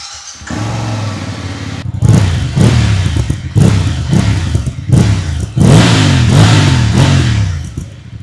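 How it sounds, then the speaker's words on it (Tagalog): A BMW F750 GS motorcycle with an Akrapovic exhaust idles, then revs loudly in a series of about six sharp throttle blips, each rising and falling, close up. "Soundcheck na rin natin tong Akrapovic exhaust."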